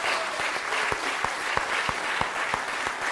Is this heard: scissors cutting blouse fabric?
no